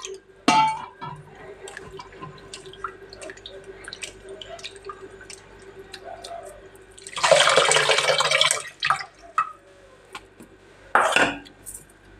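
Water goes into a cooking pot of drumstick dal with soaked tamarind, a steady splashing pour lasting a couple of seconds amid scattered drips, clinks of utensils and metal pot clangs. No one speaks.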